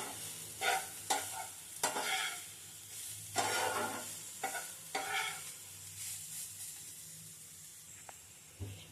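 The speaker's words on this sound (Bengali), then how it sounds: "ঘির মধ্যে গাজরটাকে ভাজে নেব, তাহলে আর সেন্টটা সুন্দর আসবে।" Grated carrot frying in ghee for halwa: a soft, steady sizzle underlies a series of scraping stirring strokes, about half a dozen, that come irregularly and then fade to a quieter hiss.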